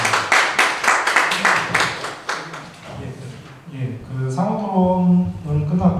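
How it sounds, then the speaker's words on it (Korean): A seated audience at a dental association policy debate gives a short burst of clapping, fairly close and loud for about three seconds before it fades under someone speaking into a microphone. "분들께 좀 박수 한번 좀 해주셨으면 좋겠습니다"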